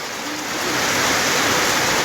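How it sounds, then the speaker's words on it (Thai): Heavy storm rain pouring down over rice fields in a December downpour, a loud, dense, continuous hiss that swells slightly and then holds steady, with no voices. "ฝนถล่มอีกแล้ว"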